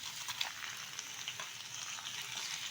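Small pieces of boneless chicken, 500 grams, sizzle and crackle steadily in a hot pan, a fairly quiet, even frying hiss with faint scattered pops and no talking.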